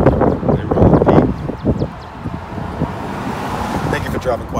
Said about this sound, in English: One second, another car.